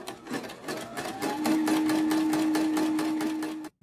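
A home embroidery machine stitches a line of lettering, its needle hammering out a fast, steady mechanical rhythm with a sustained motor whine before stopping abruptly at the end.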